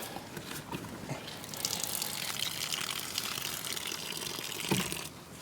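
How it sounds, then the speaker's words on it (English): Water gushes and flows from a pump drawing from an IBC rainwater tank, a steady rushing stream building up and continuing nearby. "it's coming out, so the pump is primed"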